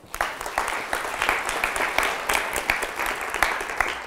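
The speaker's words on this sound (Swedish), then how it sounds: "En applåd." Audience applause at a Swedish stage event on city development, steady dense clapping from a crowd lasting the full few seconds at moderate loudness, with no talking over it.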